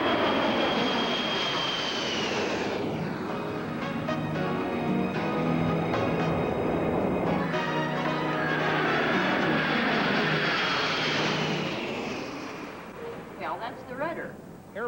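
A 1990 airplane engine roars loudly and steadily, its pitch sweeping as the aircraft passes, then fading near the end while a voice speaks over it.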